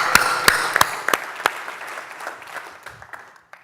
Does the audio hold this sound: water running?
no